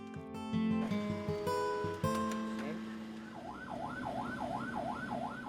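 An ambulance siren wails, rising and falling steadily in the second half, following a busy stretch of mixed tones and rumble; the siren sounds moderately close.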